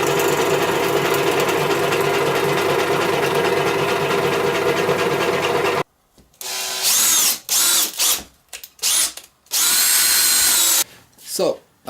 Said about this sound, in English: Then we'll look to get the holes drilled.